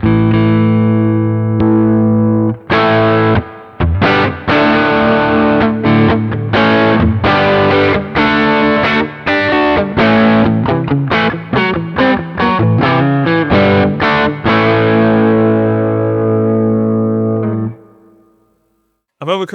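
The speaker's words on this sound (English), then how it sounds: "I'm going to plug in some overdrive pedal." A Baum Vega Revolt electric guitar plays through an overdrive pedal with heavy reverb, sounding loud, distorted rock chords and riffs that ring out into a long fading sustain at the end.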